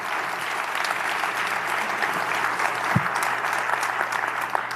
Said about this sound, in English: Let's give them a round of applause to thank them.